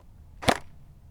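A single sharp crack from an S&T G36C airsoft electric blowback rifle set to full auto, one brief loud shot with no follow-up.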